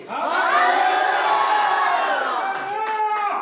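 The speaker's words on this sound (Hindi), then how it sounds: "मैं देखना चाहता हूं कि आप कितना चिल्लाते हैं" A church congregation at a Sunday service roars together in a sustained collective shout, loud and unbroken, swelling and then tapering briefly before rising again, with some clapping near the end.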